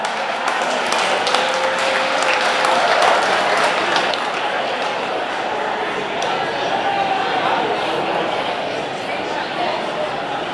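Crowd at a speedway awards banquet in a stockyards hall applauding, steady broad clapping that fills the room at an even level for several seconds, with a few voices in the mix.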